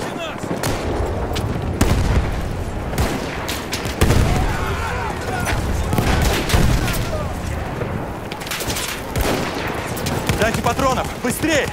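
Enemy machine gun fire rattles in Battlefield 1, with rapid, repeated close bursts and booming shots layered over one another for several seconds while soldiers shout nearby.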